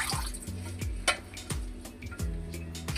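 Red amaranth leaves are washed in water, with a run of rhythmic splashes and sloshes about every half second, plus light drips and a tap-like trickle, close and fairly quiet.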